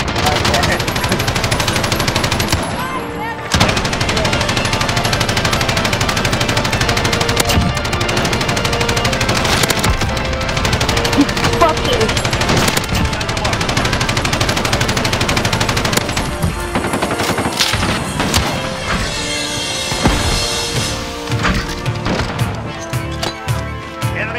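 Rapid, sustained light machine gun fire in Call of Duty Modern Warfare 2019 on the Shoot House map. The bursts are loud and close and run almost continuously, with only a brief gap near the start.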